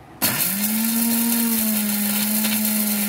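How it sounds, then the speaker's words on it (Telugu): An electric mixer grinder starts abruptly and runs with a loud, steady high whine as it grinds fried dried red chillies with cumin in its jar. "ఇప్పుడు మిక్సీ పట్టుకోవాలి."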